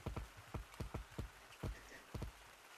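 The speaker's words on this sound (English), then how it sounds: "The first thing I notice, there's rain!" Steady hiss of rain in the VR game Gorilla Tag, with a string of sharp, irregular thuds and taps spaced through it, like drops or footfalls close by.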